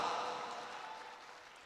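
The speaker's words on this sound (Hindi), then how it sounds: "ताली बजाओ, सब रिकॉर्ड कर रहे हो, सारा ताली हमारा बेकार हो रहा है।" An audience at a live comedy show claps in steady applause that is fairly loud at first and slowly thins out, with no voices over it.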